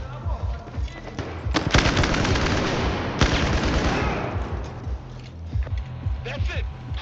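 Rapid submachine gun fire in Battlefield 4, dense overlapping bursts that peak loudly in the middle and then break into scattered shots and thumps, with voices talking over the fighting.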